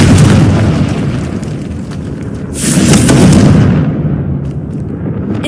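The Confringo fire-blast spell from Hogwarts Legacy goes off as a loud, heavy boom with a bright crackling burst that swells midway and then fades into a rumbling tail, with no voices.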